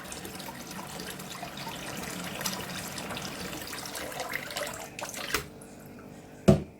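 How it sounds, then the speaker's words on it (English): Icy cold water running from a tap into a bowl in a kitchen sink, a steady close stream that thins out near the end, followed by a sharp knock. "So I fill my bowl with icy cold water."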